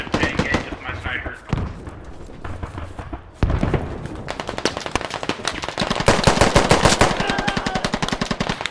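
Rapid automatic gunfire in a shooter game, long bursts of dense repeated shots that grow louder and more sustained toward the end, with someone talking over parts of it.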